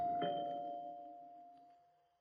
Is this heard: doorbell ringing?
yes